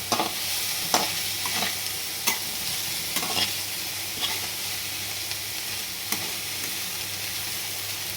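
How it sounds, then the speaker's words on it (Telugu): Ginger-chilli curry with Zuckererbsen (snow peas) stirred in a pan, a low sizzle broken by repeated spoon scrapes and knocks at an uneven pace, close and fairly quiet. "కూరని ఒక బాగా కలుపుదాం"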